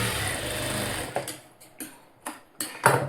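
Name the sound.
sewing machine stitching a blouse seam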